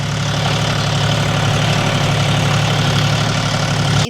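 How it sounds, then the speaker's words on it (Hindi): A John Deere tractor engine runs nearby on a farm field, holding a steady, loud low-pitched idle with a constant throbbing hum and no talking over it. "हमारा ट्रैक्टर चल रहा है पास में और हम यहाँ पे हैं"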